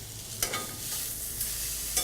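Steaks fry in a pan with a steady soft sizzle, and a couple of short scraping stirs rise above it; the sound is fairly quiet and has no talking over it.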